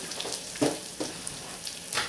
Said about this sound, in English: My water is boiling.